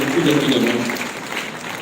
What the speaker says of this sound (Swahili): Tupige makofi jamani.